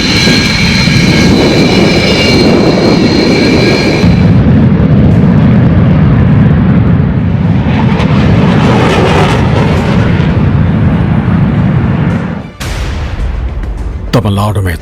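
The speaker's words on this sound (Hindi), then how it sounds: "आजादी के जश्न से पहले तेजस राफेल की दहाड़।" Tejas and Rafale fighter jets roar at Sulur air base in Tamil Nadu during the Tarang Shakti air exercise, a loud continuous jet roar that fills the whole stretch, shifts in tone partway and briefly dips near the end.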